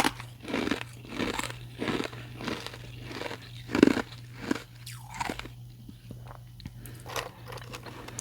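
Carbonated ice cubes are crunched up close in steady repeated bites, each a crisp crackling crunch with chewing between, alone with no talking over a low hum.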